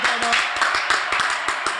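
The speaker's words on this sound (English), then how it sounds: "Let's give him a round of applause." Small audience clapping for guest Ruben Venegas, a brief patter of individual hand claps, fairly close and moderate in level, with a faint voice early on.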